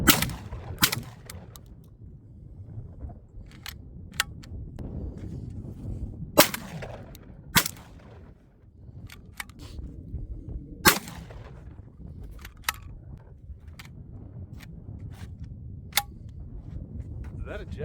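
A Citadel Boss Hog shotgun loaded with high brass shells fires several sharp, separate reports during an ice test outdoors, spaced irregularly over a low background rumble, with people talking between the shots.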